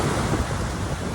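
Sea surf on a calm provincial shore, a steady broadband wash of breaking water with wind rumble, continuous and fairly loud.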